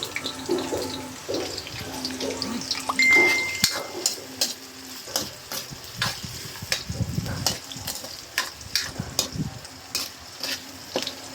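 Ginger and onion sizzle in a hot pan with steady frying crackle, broken by a few scraping stirs and clinks, with a brief running-water sound partway through.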